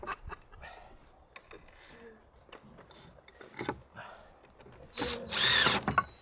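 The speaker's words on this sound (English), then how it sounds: "you have to drill through the pre-existing tile, this one here, drill through that and then screw it in." A power drill bores through pre-existing roof tile, with short intermittent bursts of whirring and a loud, sustained grinding run near the end, heard close up.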